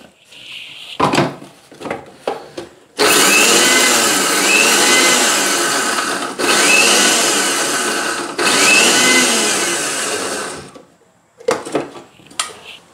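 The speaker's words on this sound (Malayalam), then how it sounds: "ഇത് ഞാനൊന്ന് മിക്സിയിൽ പൊടിച്ചെടുക്കാം." A mixer grinder whirs loudly for about eight seconds with brief pauses while grinding coconut, shallots and cumin, after some clinks and knocks of kitchen utensils; quieter handling sounds follow.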